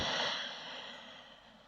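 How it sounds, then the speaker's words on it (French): A single slow, breathy exhale during yoga practice, an Ujjayi breath, soft and airy, starting close and fading gradually, heard alone. "une Ujjayi breath, une respiration Ujjayi"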